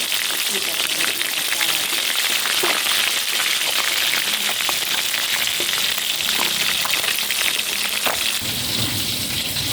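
Sun-dried fish, including snakeskin gourami, frying in oil with a dense, steady sizzle and crackle throughout, with a voice speaking over it.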